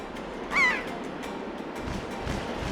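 A seagull cry in The Wind Waker video game, made from an elephant call, rings out once as a short, bright wavering squawk over steady windy game ambience.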